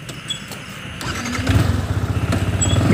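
A Yamaha R15 V4 motorcycle engine cranks and catches, rising from a quiet start into a steady, throbbing idle that holds close and loud.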